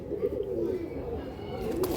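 Malbai pigeons give low, rolling coos nonstop at close range, with faint talk in the background.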